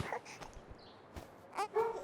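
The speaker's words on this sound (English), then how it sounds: "Someone's knocking, dog is barking." A dog in a Nintendo teaser short gives a few soft yips and whimpering barks amid knocking thuds, moderately close, with quiet gaps between sounds.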